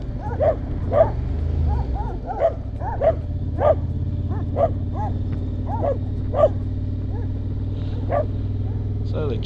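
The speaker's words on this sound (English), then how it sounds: "not with Max fighting three dogs" Several dogs chasing through a mountain village in Greece, Agios Valeeios, bark in a rapid run of sharp, close yips and barks over a low engine hum, one after another.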